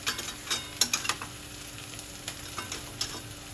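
Minced chicken kheema with turmeric, red chili and homemade masala is stirred in a pan, a soft steady sizzle broken by scraping clinks of the spoon against the metal, close and without speech.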